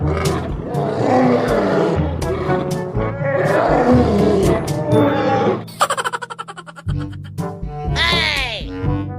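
A lion in Jurassic World Evolution 2 lets out deep, loud roars in repeated bursts, followed by rapid mechanical clatter and a rising electronic tone.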